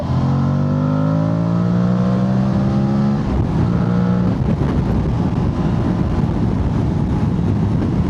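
An Aprilia Tuareg 660 motorcycle engine revs up steadily in third gear with rising pitch, then a brief dip as a gear changes and the roar continues, close and sustained.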